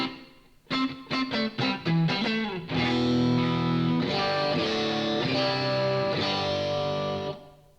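Electric guitar runs through a Quad Cortex processor into a stereo reverb: a quick series of plucked notes and short chords, then sustained distorted chords ringing out with a lush wash of reverb, loud and alone.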